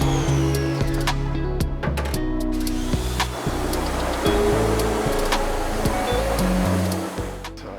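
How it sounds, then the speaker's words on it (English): A pressure washer blasts emulsion off a screen-printing screen in a T-shirt print shop, giving a loud, steady hiss of spraying water that runs unbroken throughout, with some rattling and clanking underneath. "I'll use the pressure washer to make sure that all the emulsion's off."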